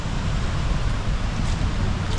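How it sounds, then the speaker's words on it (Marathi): Loud, steady rushing water below a dam near a village in Lanja, Ratnagiri, a dense broadband roar filling the whole stretch without letup. "पाण्याचा आवाज खूप मोठा येतो."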